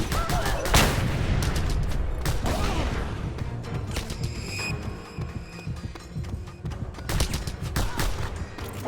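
Gunfire rings out in the video game Chaos and Crews as a rapid string of loud, sharp bursts, with several clustered shots near the start and more later, one of them a headshot.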